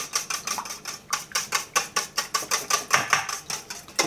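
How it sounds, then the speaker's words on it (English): A whisk beats double cream and egg yolks in a bowl with a quick, steady rhythmic clicking, around four strokes a second, close and clear, with no talking. "Just give it a good whisk and make sure everything's combined together."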